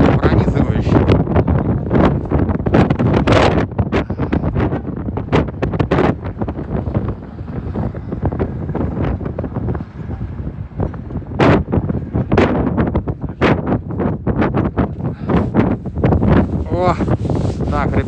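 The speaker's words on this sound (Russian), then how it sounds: "Мороза немного, ветер очень сильный." Strong, piercing wind on a frosty winter day batters the microphone in loud, continuous gusts and rumbling buffets, with someone speaking at times under the roar.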